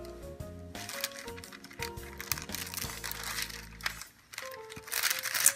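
Plastic-wrapped filo dough package crinkles and rustles as it is unrolled, close and fairly loud, in several bursts over a kitchen background.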